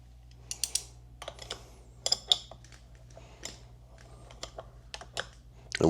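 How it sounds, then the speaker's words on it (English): A 2 5/8 wrench tightens the top spreader piece of a motorcycle lift under an inverted Harley Street Bob 114, giving close, irregular metallic clicks and ratcheting taps with short pauses between turns. "I just want to tighten this down as much as I can"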